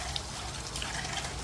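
Water flows over an old grist mill water wheel at a Kentucky roadside attraction, a steady splashing trickle and rush, continuous and fairly close, with no voices.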